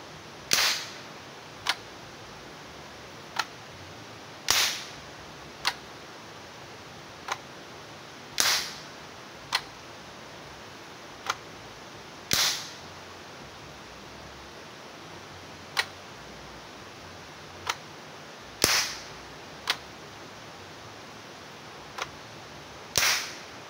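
Sharp, loud pops from a butane-powered PVC toy gun built in an AR-15 design go off irregularly, some stronger than others, with quieter clicks in between and no talking.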